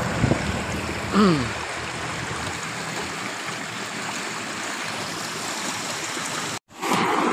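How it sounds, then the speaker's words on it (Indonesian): Clear, fast-flowing water rushes steadily through an irrigation ditch on a mountainside among tobacco fields, a close, continuous broadband wash with a brief dropout near the end. "Ini paretnya sangat jernih sekali ya, dan deras."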